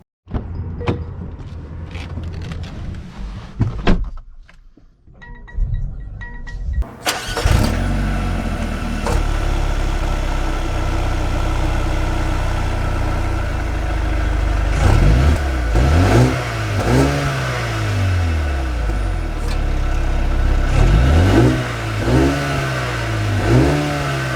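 A 2021 Mercedes-AMG GLA 35 4Matic starts up, its engine catching after a few seconds of quiet clicks and thuds, then idles steadily before pulling away with repeated rising revs as it accelerates through the gears, loud and close.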